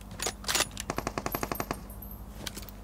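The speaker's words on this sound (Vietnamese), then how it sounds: "Cái gì đấy, mấy ông bắn gì ở đây đấy." Video game gunfire: a rapid, close burst of automatic shots rattles in quick succession, with a few scattered shots before and after it.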